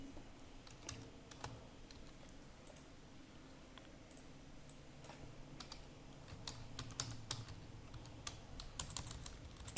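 Someone types a root user password on a computer keyboard, producing quiet, irregular clusters of key clicks close by against a faint background hum.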